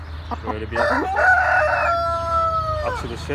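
An Aseel rooster in a coop in Adana crows one long, loud, close call, with clucks and a short bit of talk before and after it.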